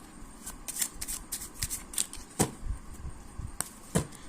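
Playing cards shuffled and handled during a tarot reading, a rapid series of crisp riffling flicks and soft slaps, close and fairly loud, no talking.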